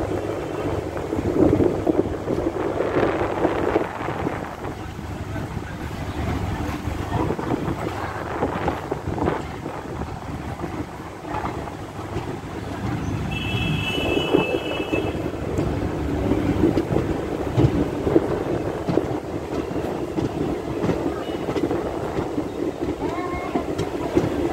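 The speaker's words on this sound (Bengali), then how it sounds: "চলো ট্রেন ছাড়ুক, তারপর আবার দেখাচ্ছি।" A DEMU passenger train rolls out of Siliguri Junction, heard from inside as a steady low rumble with rattling and wind noise, a short higher whine partway through.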